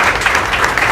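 Loud, close audience applause for speakers and the host at a tech meetup, a thick continuous roar of many hands clapping together.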